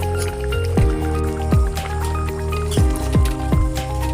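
Chicken meat sizzles and squelches in a pan cooked without oil, with wet stirring scrapes recurring every second or so over a steady low hiss, heard up close.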